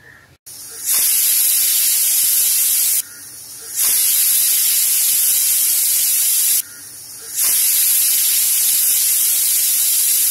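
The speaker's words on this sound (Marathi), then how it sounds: "इथे कुकरचं झाकण लावून घेते आणि ह्याला आपण आता 3 शिट्या काढून घेऊया" Pressure cooker on high flame cooking Malvani-style taro leaf curry, releasing loud sustained bursts of hissing steam, three long whistles separated by short quieter gaps, with no talk.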